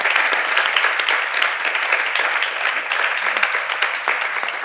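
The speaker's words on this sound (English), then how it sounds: "Please give them a round of applause." Sustained audience applause at a panel event on women in government, a dense, steady wash of many hands clapping close and loud throughout, without speech.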